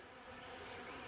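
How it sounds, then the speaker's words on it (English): Bees swarm around a pollen feeder outdoors, their faint, continuous buzzing hum steady throughout without any talking. "there was a few bees, but not like there is today around this pollen feeder"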